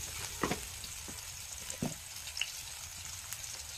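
Green chillies frying in hot oil with a little salt, a steady close sizzle with a few louder crackles and pops, no talking.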